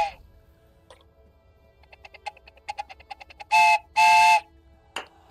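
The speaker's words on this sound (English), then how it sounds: "Oh, I just got a giant notification. It's a hype train success." A Twitch hype train success alert plays a chugging, ticking run of little chimes, then two loud sustained steam-train whistle blasts and a short final toot, bright and close.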